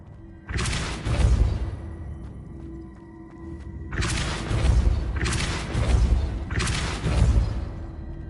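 In the video game Hogwarts Legacy, the Depulso and Accio spells are cast in turn. Four loud booming magical blasts each swell and fade, one alone followed by three in quick succession.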